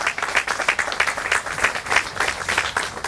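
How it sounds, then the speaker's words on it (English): An audience at a community center grand opening claps in a steady, pulsing round of applause, many hands close together at fairly strong volume. "Give them a round of applause."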